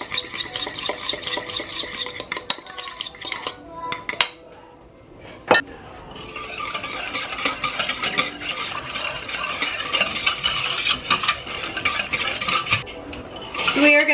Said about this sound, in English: Then I'm just going to beat my egg yolks here